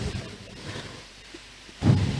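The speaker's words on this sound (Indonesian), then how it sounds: "Hujan kah?" Rain and thunder, a low rumble of thunder rolling under steady rain, with a louder deep roll swelling near the end, heard from indoors.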